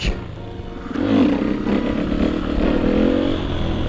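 A rebuilt supermoto motorcycle engine roars through a wheelie with shift lock, close and loud, its revs climbing around the first second and then holding steady in a strong drone.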